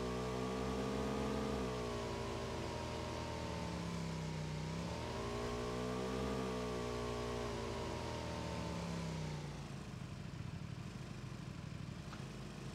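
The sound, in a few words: vehicle engine driving in PlayerUnknown's Battlegrounds video game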